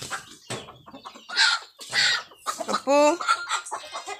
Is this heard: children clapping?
no